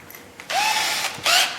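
Power drill reaming a slightly tight hole in a 2007 Poulan Pro chainsaw, two short rising whirs in quick succession, close and fairly loud, with no talking.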